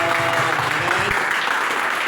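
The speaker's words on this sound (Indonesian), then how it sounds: "Berikan tepuk tangan dong untuk dia" A church congregation claps together for a brief, loud, dense burst of applause that fills the room; a faint low voice or musical tone sits beneath the clapping.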